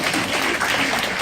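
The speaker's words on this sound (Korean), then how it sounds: "박수 한번 주세요." Brief burst of audience applause at a company compensation-plan seminar, steady dense clapping at close range with no voices over it.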